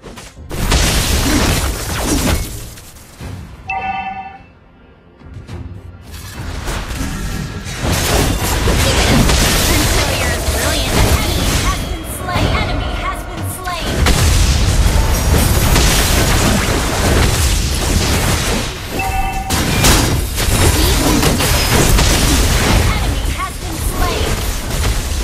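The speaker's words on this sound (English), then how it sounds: "Turret has been destroyed." Mobile Legends: Bang Bang battle audio with a turret being destroyed: dense, loud stretches of booms, crashes and magic effects, broken by short lulls, with in-game announcer voices over the action.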